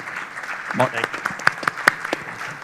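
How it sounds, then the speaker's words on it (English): Scattered clapping at a hotel investment conference panel, a few sharp claps and a loose patter spread over under ongoing talk rather than a full ovation. "And a round of applause for the"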